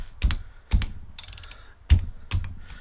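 A hand ratchet nudges a socket on a motorcycle front fork nut, making a few sharp, close clicks and knocks spaced out in separate bumps, with a brief light metallic rattle between them.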